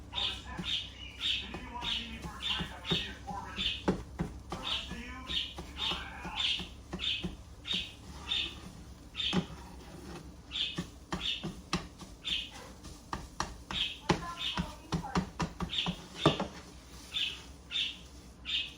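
Birds chirp in a steady run of short, bright calls at a moderate distance, with faint background murmur underneath.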